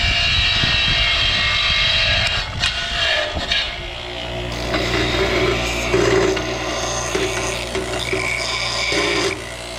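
A Harbor Freight bench grinder with a wire wheel spins up with a harsh grinding rasp, then settles into a steady loud motor whine with intermittent scraping against metal.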